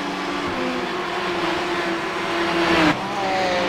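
GTE race cars roar in the iRacing sportscar game, a steady loud engine drone with pitch climbing through the gears, then dropping sharply at a shift before rising again.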